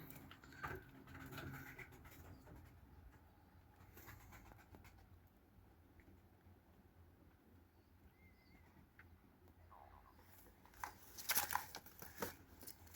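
Pigeons at evening feeding give soft cooing against quiet background rustle, with scratching and fluttering growing louder near the end, fairly faint overall, no talk.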